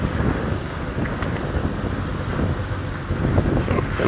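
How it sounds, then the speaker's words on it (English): Wind gusting outdoors during an afternoon safari drive, a steady broadband rumble with low buffeting on the microphone, continuous and fairly loud throughout with no talking. "It's also a little windy this afternoon."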